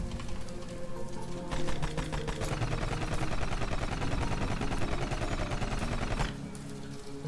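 A pistol fires rapidly in the video game Rusted Moss: a dense, steady stream of quick shots rattles on for about five seconds, loud and close, then cuts off sharply.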